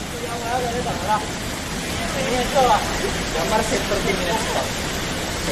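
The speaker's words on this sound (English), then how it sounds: "Heavy rain like this usually only." Heavy downpour in Jakarta during a thunderstorm, a dense steady hiss of rain close by with people talking over it.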